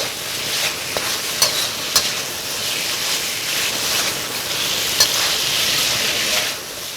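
Beef stir-frying in a wok toward nearly cooked, giving a steady, loud broadband sizzle with a few sharp clicks of a utensil against the pan, and no one speaking.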